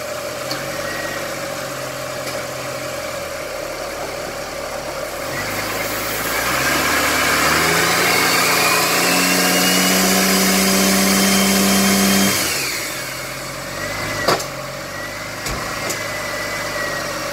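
A turbocharged BA XT engine runs steadily, then is loaded up into a louder rising whine and drone for several seconds before dropping back to idle.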